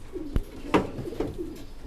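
Pigeons coo softly nearby in low, throaty bursts in a breeding loft, punctuated by a couple of sharp thumps or knocks.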